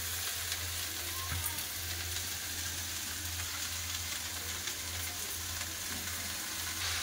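Washed lal saag leafy greens frying with onion in a pan, a steady close hiss and sizzle throughout with faint stirring, no speech.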